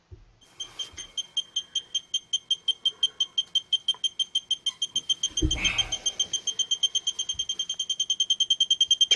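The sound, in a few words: gas detector beeping alarm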